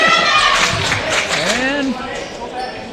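A student cheering section at a Flambeau vs Bruce high school basketball game yells from the stands, a loud continuous crowd roar with shouted voices and commentary on top.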